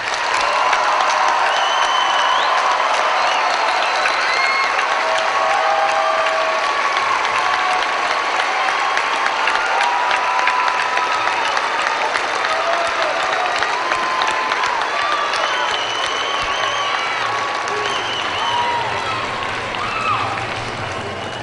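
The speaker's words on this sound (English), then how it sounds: "Will the members of the audience please join me in a round of applause to recognize the graduates?" Sustained, loud applause and cheering from a large commencement audience honoring graduates, a dense wash of clapping that holds steady for over twenty seconds with scattered shouts rising above it.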